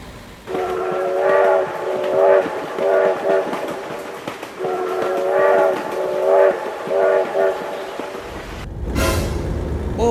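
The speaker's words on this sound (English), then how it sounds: "Oh my God, train!" A train rumbles past with its horn sounding in repeated two-tone blasts over steady wheel clatter, loud and close, ending in a sudden burst of noise near the end.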